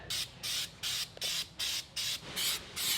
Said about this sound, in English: I didn't know spray foam was gonna come out first